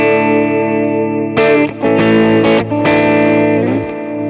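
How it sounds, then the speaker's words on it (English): An electric guitar rings through the drive distortion on a Line 6 POD Go, a sustained chord followed by several loud, gritty, fuzzy strums, close and alone. "button A is going to be a drive or a distortion"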